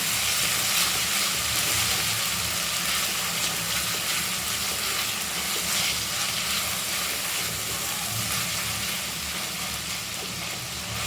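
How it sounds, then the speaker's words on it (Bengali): A spoonful of ginger garlic paste fries in hot oil in a pan for ghugni, making a loud, continuous sizzling hiss that holds steady throughout and fades slightly toward the end. "এক চামচ আদা রসুন বাটা ভালো করে ভেজে নেব।"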